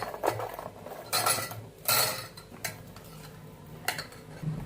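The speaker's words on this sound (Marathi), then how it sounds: "त्यामध्ये आपण हे तळलेले सगळे गुलाबजाम टाकून घेऊया" Fried gulab jamun are dropped into cooled saffron sugar syrup in a pot. A few distinct clinks and soft knocks of a utensil against metal come close up in a quiet kitchen, spaced irregularly with short pauses.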